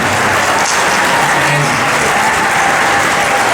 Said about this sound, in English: I'm going to give you a round of applause, man.